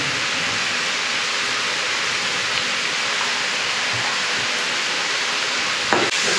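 Paneer with sabzi masala spices roasts in a hot pan, giving a dense, even hiss and sizzle with occasional small stirring knocks and a louder scrape near the end.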